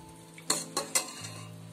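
A spoon stirs cooked rice with coconut milk in a steel pot for payasam, three quick scraping strokes close by over a soft background simmer, with no talk.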